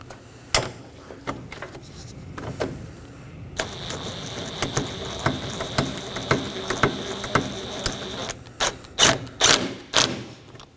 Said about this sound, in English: The bolt in the middle, snug this down as well.